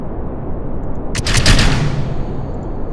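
A Proton rocket ignites and lifts off in Kerbal Space Program, a dense roaring burst swelling up over a low rumble for about a second before settling back into a steady drone.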